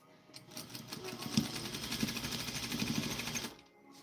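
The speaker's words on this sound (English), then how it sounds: "I am stitching up a 5/8" seam allowance." A home sewing machine stitches a 5/8 inch seam on a Vogue 1737 garment, a fast even mechanical whir running for about three seconds before stopping, close and moderately quiet.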